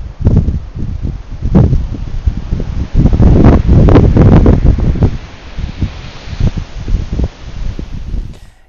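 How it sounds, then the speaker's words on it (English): Wind gusts outside St. Michael's Church in Llanrug, Caernarfonshire, buffet the microphone in loud, uneven rushes with rustling between them, easing toward the end. "Beautiful day, a little bit windy."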